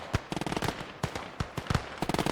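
Tank grenades and gunfire crack in a WWII battle in Gates of Hell: Ostfront, sharp explosive bangs mixed with rapid bursts of shots, loud and close with no voices.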